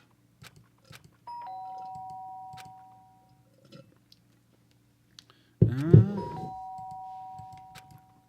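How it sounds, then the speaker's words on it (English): A two-tone electronic doorbell chime in the video game Danganronpa rings twice, clean sustained tones with soft clicks scattered around, the second ring preceded by a thump. "The sharp sound of the doorbell pierced my sleepy haze and pulled me back to the real world."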